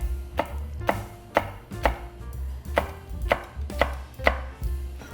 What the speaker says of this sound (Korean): 채를 썰어주시는 데는 곱게 안 썰으셔도 됩니다.